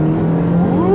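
A 2015 Honda Jade accelerates hard in S mode, its engine note rising steadily in pitch over one second, loud and close with a continuous harmonic whine and no talking.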